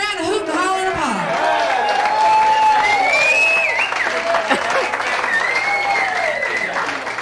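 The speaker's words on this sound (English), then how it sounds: "Give him a nice round of hoot and holler and applause." An audience applauds, hoots and hollers to welcome a band onstage. Steady clapping mixes with rising whoops and cheers, and voices carry throughout the sustained noise.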